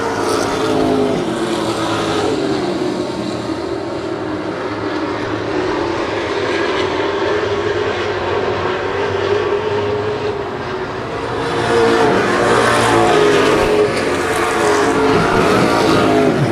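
Pro stock race cars running around an oval track, a continuous loud engine roar from a pack of cars that swells toward the end.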